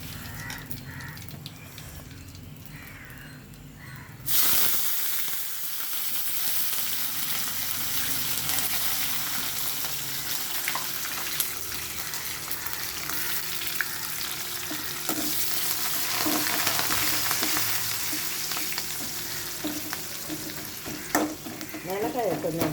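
Crushed garlic hits hot oil with a sudden loud sizzle that keeps up as a steady crackling fry, with occasional stirring and birds cawing faintly in the background.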